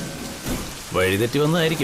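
Steady rain hisses in the background while a voice speaks over it, the rainfall a soft constant wash beneath the talk.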